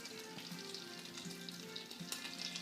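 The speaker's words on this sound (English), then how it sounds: "I'm gonna start with the onion first, so it can be a little bit brown first." Onion frying in a pan for red borsch, a steady, soft sizzle throughout with faint stirring touches.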